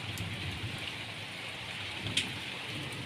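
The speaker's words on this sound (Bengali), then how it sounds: "আর আজকে সকাল থেকেই এরকম বৃষ্টি শুরু হয়ে গেছে।" Morning rain falls steadily in a continuous soft hiss, fairly faint and even throughout, with one brief louder splash near the end and no voices.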